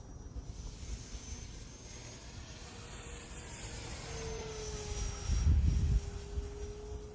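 An E-flite Turbo Timber Evolution 1.5m electric RC airplane flies aerobatics at under half throttle, its motor a faint, distant whine that rises and falls in pitch as it passes, over light wind noise.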